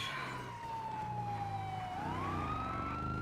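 A video game police siren wails, sweeping steadily through its tone, loud and continuous over a low engine rumble, with no talking.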